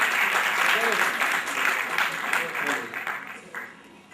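An audience at a medical association seminar's award ceremony in Greater Noida applauds a first-prize winner, with a dense wash of clapping under ongoing voices that gradually thins and fades.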